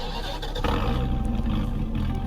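Car engine starting up in the Greenville video game on an unreleased limited vehicle, a loud, deep, beefy rumble that fires and settles into a steady heavy idle.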